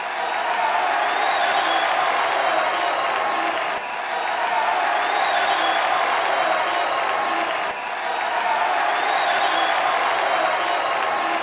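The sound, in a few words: wrestling crowd chanting and booing at Triple H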